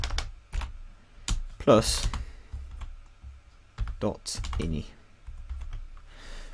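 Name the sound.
typing on a computer keyboard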